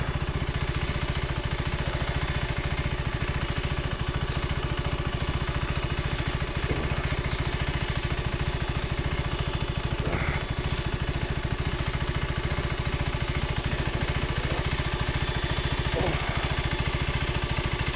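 KTM 390 Adventure R single-cylinder motorcycle engine while riding, a continuous loud close drone with steady throb and wind rush, no speech.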